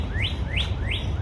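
Birds singing outdoors in a calm natural setting: three bright rising chirps repeat at an even pace over a soft, steady background hush.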